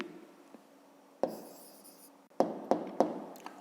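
A pen writing an answer on paper, several short scratchy strokes and taps close up in a quiet room, separated by brief pauses, with no talking.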